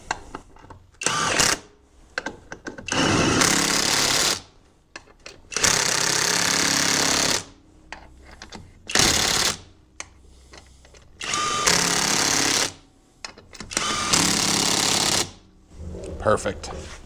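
A power tool runs in repeated loud bursts of a couple of seconds each with quiet gaps between, while a wheel is fitted back onto a Polaris Sportsman ATV, close up.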